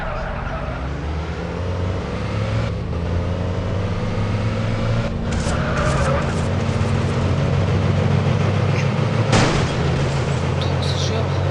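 A car in the video game Madout2 revving hard in a steady engine roar with tire squeal, a loud continuous drone, while a voice talks over it.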